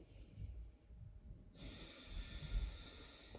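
A slow, deep breath during a gentle yoga flow, soft and close in a quiet room, with a faint steady tone entering partway through.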